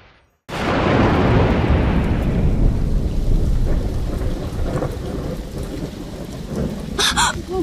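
Steady heavy rain pours down after a sudden start, a dense hiss with rumbling thunder underneath, fading slightly over time.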